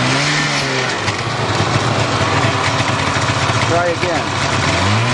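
A snowmobile engine running close and loud, idling then throttled with revs rising and dipping, under a person speaking briefly.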